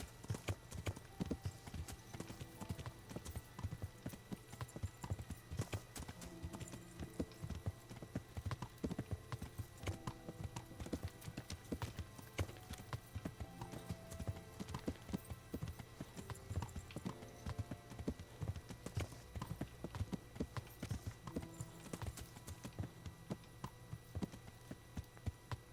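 An exhausted horse's hooves clip-clop steadily and faintly through a video game scene, a long run of quiet rhythmic hoofbeats with no talk.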